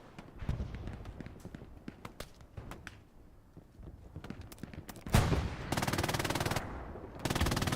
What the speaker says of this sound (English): So the MGs should get a lot of action right now.